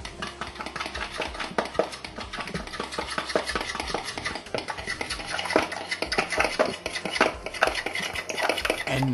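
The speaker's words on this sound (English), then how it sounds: "And then we need to whisk it." Soda bread muffin batter with one large egg is whisked briskly in a bowl, giving a steady run of rapid metallic clinks and scrapes close by, with no talking.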